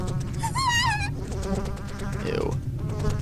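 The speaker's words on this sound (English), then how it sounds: "Countless flies immediately flew out from the overturned bucket and began swarming all around me. Their buzzing wings sounded right up against my ears" A swarm of flies buzzes close around the listener in the horror video game Corpse Party, with whining wingbeats rising and falling in pitch as they dart past the ears over a low background rumble.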